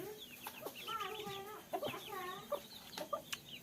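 A three-kilo Kaveri hen with a crest clucks and makes drawn-out, wavering calls at close range, several phrases in a row punctuated by short sharp clicks.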